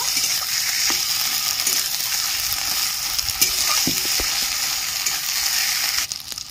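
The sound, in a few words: stirring ground drumstick leaves into fried onions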